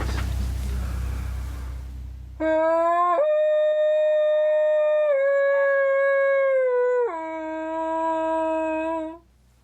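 A woman imitates a wolf howl with her voice, one long sustained tonal howl that rises, holds, dips in pitch and lifts again before fading, loud and close, after brief low background noise.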